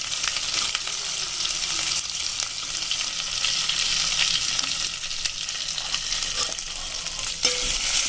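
Sambar masala with turmeric frying in a pan for idli sambar, a continuous loud sizzle with scraping stirring sounds throughout and no talking.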